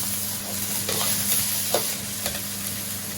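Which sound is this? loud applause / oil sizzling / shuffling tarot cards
oil sizzling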